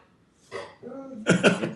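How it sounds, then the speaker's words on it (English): Two pit bulls bark nearby in a few short, sharp bursts, the last ones louder and closer together. "Two pit bulls barking."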